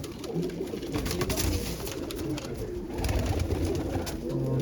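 Large pigeons coo steadily in a loft, a dense, continuous layer of low, throaty calls from several birds close by, with soft fluttering and rustling mixed in.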